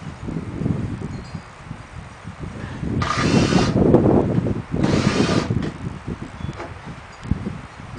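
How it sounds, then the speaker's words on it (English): A power drill bores holes into pallet wood for a grill table, two whining bursts of drilling about a second each amid outdoor rustling and handling noise. "We'll drill some holes."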